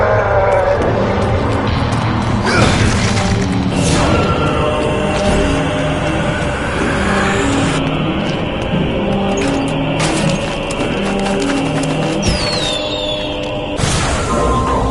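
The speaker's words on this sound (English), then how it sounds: "Fireworks! We could use these to chase away the darkness, at least in short bursts." Fireworks burst in the video game Shadows of the Damned: several sharp, loud pops at uneven intervals over a constant rumbling game background.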